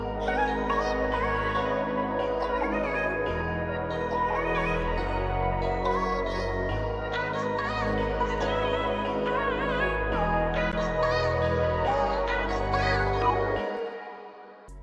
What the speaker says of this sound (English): So yeah, the melody sounds like this.